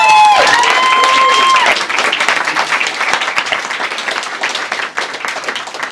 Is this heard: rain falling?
no